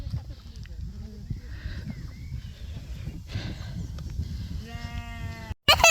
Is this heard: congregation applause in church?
no